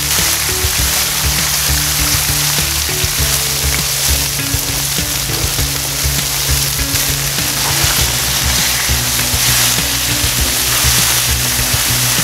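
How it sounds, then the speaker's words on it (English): Bacon and burger patties sizzling on a flat griddle, a loud, dense and continuous frying hiss that holds steady throughout, close up with no talking. "Meanwhile, I'll drop down some bacon"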